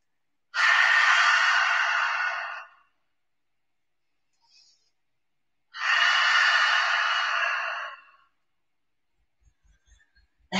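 Two long, breathy exhalations through an open mouth during a kundalini yoga flow, each lasting about two seconds, close and clear against near silence with a brief soft sniff between them.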